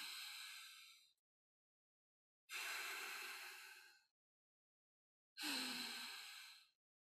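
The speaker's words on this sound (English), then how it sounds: "You breathe in." Three long, slow breaths drawn through the nose during a slow-breathing session, each a soft airy rush lasting over a second, separated by silent pauses, close and clear with no talking.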